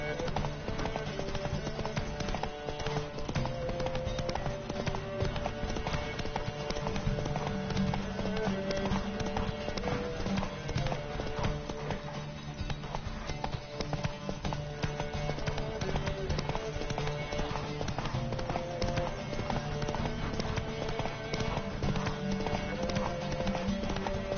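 Rapid hoofbeats of galloping horses in a race in The Witcher 3, pounding continuously under music and game sounds, a dense, steady rhythm throughout.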